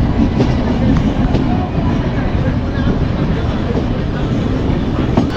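The Indore Howrah Express passes close by, its steady, loud rumble of wheels on the rails continuing without a break.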